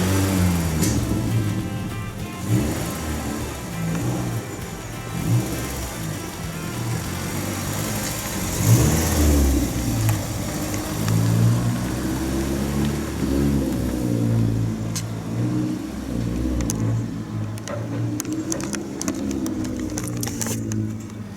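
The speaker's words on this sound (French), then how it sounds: "elle leur a fait son petit retour de flamme au démarrage" A sporty car's engine starts and rumbles close by, revving up and down for about twenty seconds with a few sharp cracks that fit a backfire. No one speaks.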